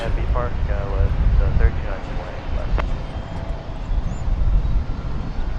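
An airliner landing at DFW Airport after arriving from Richmond makes a steady, moderate engine rumble beneath a person talking.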